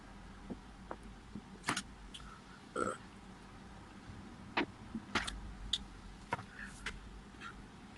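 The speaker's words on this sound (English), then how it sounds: "I'm burping." Several short burps spaced irregularly, some louder and longer than others, close up against a quiet, faintly humming background.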